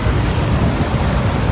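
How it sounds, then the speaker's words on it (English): Continuous roar of heavy traffic circling the busy roundabout around the Arc de Triomphe in Paris, a dense, steady wash of engine and tyre noise close by with no break. "Traffic is non-stop."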